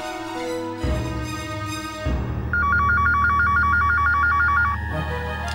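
A telephone rings during a call home in a Hindi drama: tones and a dial sound lead into a repeating warbling ring, loud and close, with no voices.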